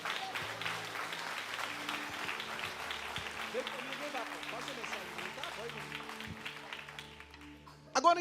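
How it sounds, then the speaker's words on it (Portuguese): A church congregation at a Baptist evening worship service applauds steadily, a broad wash of clapping that runs throughout, with sustained musical tones and some vocal sound mixed underneath before it thins out near the end. "Pode aplaudir a Jesus."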